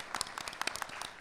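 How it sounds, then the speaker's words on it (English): Brief applause from a conference audience at a land and resource rights gathering, scattered claps at moderate distance with no voices over them. "can I just give a round of applause to my colleagues here?"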